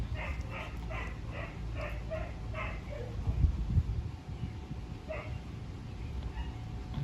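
A Dogo Argentino dog whimpers and cries in short high-pitched bursts, several in quick succession, then one more after a pause, over a low rumbling background.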